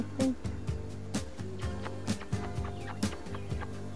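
A small animal at a wildlife rescue centre in Puyo, Ecuador gives short, clucking cries. They repeat close up, roughly twice a second, in a steady rhythm.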